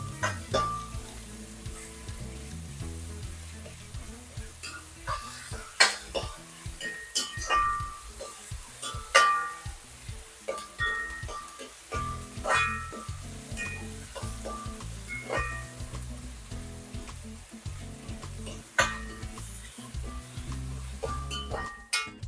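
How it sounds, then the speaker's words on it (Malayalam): Onion with ginger garlic paste sautéing in a pan while rice is cooked for a biryani-style dish, giving a steady close sizzle under repeated metallic clinks and scrapes of a spoon stirring against the pan. "എല്ലാം കൂടെ നല്ലതുപോലെ ഒന്ന് വഴറ്റിയെടുക്കാം."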